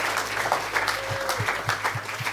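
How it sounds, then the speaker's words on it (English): An audience gives a round of applause as a speaker comes up to the stage at a leadership dialogue event, steady clapping throughout with a brief voice heard beneath it. "let's give Giuliani a round of applause as he comes up"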